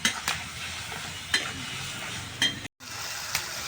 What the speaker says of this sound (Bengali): এই টমেটোটা দিয়ে দেবো। দিয়ে ভালো করে মশলাটা কষিয়ে নেবো আমি।